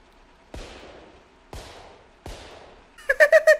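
AK-47 gunfire in the video game The Long Drive: three loud single shots spaced about a second apart, each with a sharp crack and fading tail, then a quick burst of four rapid rounds.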